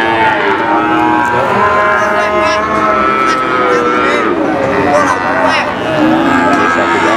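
Cattle low repeatedly at a cattle market, including female calves of breeds such as Limousin and Simmental, with loud overlapping moos against a busy background of market noise and voices.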